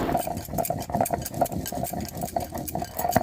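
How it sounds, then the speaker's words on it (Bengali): Dried red chillies and garlic ground together by hand: rhythmic, repeated scraping and knocking strokes at an even pace, fairly close, with a low hum underneath. "আর এখন আমি এই যে শুকনো লঙ্কা আর রসুনটা বেটে নিচ্ছি"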